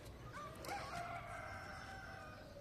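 Roosters crow in the background with chicken clucking mixed in, over a steady outdoor village hum; the calls sound moderately distant.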